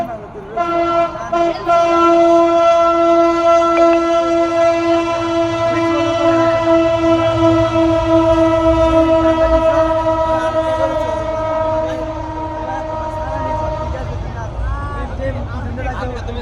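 A train crossing the Banasua railway bridge over the Gomti River near Comilla sounds a long, loud, sustained horn over rolling wheel rumble, while people talk nearby.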